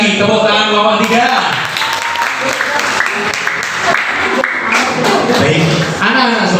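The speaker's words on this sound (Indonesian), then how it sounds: "Sekali lagi tepuk tangan kelompok 3." A classroom of pupils applauding group 3 after its presentation, loud sustained clapping from many hands filling the room for several seconds, with voices mixed in.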